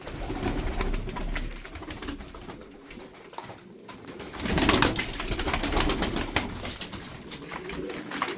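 Game pigeons (Turkish tumbler-type flying birds) cooing with wing flapping over a steady busy background, the calls fairly close and continuous, swelling briefly midway.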